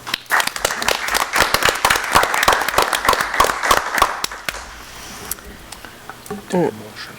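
Audience at a school district board of education meeting applauds departing staff members and a coach; distinct, fairly close claps from a modest group that taper off, followed by quieter room sounds and a brief voice.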